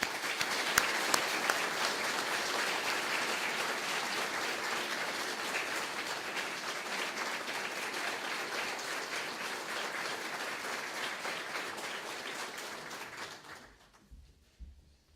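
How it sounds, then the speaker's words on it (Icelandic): A large audience at a graduation ceremony claps in sustained, even applause for over ten seconds, then fades out abruptly into near silence. "ég vil biðja ykkur að klappa fyrir Sunnu."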